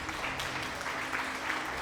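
An applause sound alert plays on a livestream during a Metroid Prime 3: Corruption session, steady clapping that runs throughout at moderate loudness with no talk over it.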